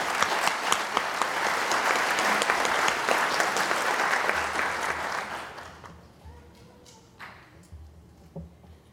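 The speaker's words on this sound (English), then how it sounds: "another round of applause for Kate for her outstanding voice and singing" Outdoor Memorial Day ceremony audience applauds a singer, a dense wash of clapping that holds for about five seconds and then thins out and fades.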